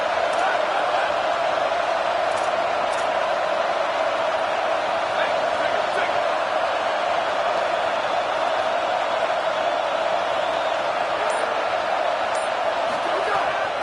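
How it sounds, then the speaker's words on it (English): A home crowd in the college football game NCAA 27 roars as a steady, dense wash of stadium noise that runs without a break under a commentator's talk. "Here comes this home crowd"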